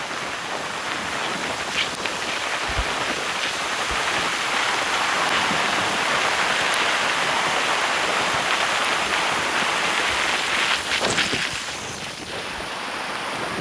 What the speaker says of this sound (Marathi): खूप खूप जोरात पाऊस आहे.